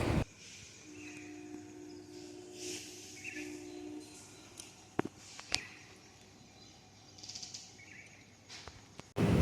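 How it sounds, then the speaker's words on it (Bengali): Birds chirp and crickets trill faintly at dawn beside a town street, a quiet steady backdrop broken by a few sharp nearby clicks and knocks, with no talking. "পাখির কিচিরমিচির আওয়াজ তো তোমরা শুনতেই পাচ্ছ"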